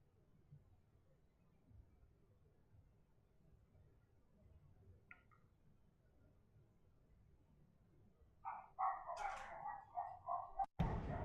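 Dogs barking in the video game Minecraft: a quiet, low background gives way near the end to a burst of several close, high-pitched yips and barks in quick succession.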